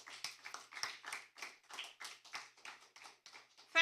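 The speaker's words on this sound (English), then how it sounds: "Give her another round of applause" Scattered hand claps from a small audience at a school debate competition, a sparse patter of individual claps rather than a roaring ovation, fairly quiet throughout.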